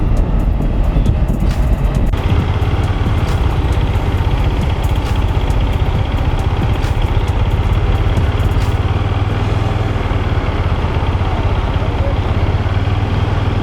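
A Bajaj Dominar motorcycle cruises on the NH44 highway with an ECU fault that makes its RPM jump. Its engine drones steadily and loudly beneath heavy, constant wind roar throughout.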